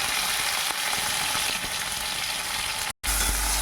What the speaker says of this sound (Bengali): ভেজে নিচ্ছি কচু আর আলুটা।